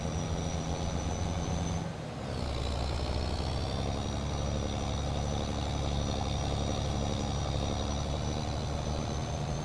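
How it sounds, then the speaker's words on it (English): A loud lorry engine in Farming Simulator runs at a steady, heavy drone with a constant low rumble and a faint high whine. There is a brief dip near the start, and then it holds unbroken to the end with no talk. "extremely loud lorry."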